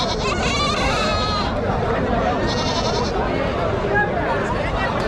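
Goat kids bleat repeatedly at a busy Friday livestock market in Kundarapalli, Krishnagiri district, their high, wavering cries rising over a dense crowd murmur and nearby people talking.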